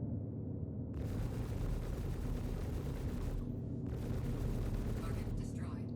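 An enemy ship is destroyed in a Star Citizen space fight, with dense, continuous rumbling blasts and weapon fire filling the scene, loud and close, while a voice talks over it.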